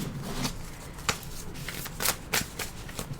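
Playing cards are shuffled nearby in several quick riffling bursts with brief pauses between them.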